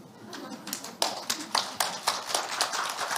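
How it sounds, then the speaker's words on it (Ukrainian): Studio applause plays as a run of separate, fairly sharp hand claps with an uneven rhythm, moderately close and growing slightly denser. "Аплодисменти в студію."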